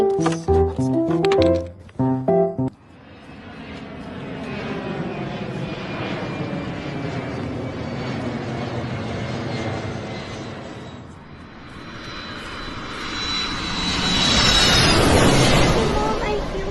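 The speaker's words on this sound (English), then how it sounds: "Mom, I feel the plane." An airplane engine hums and roars continuously in a Barbie story scene, swelling louder toward the end, after an opening burst of music and talk.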